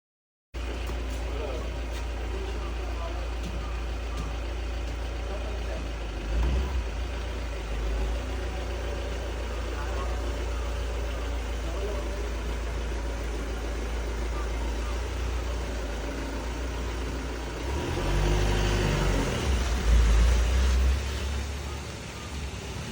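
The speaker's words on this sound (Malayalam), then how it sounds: "അപ്പോഴേക്കും അവൻ്റെ സ്കൂൾ ബസ് വരാനായി" A school bus arrives and idles close by, its low, steady engine rumble running unbroken for over twenty seconds and swelling slightly louder near the end.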